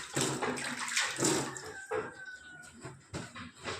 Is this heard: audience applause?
no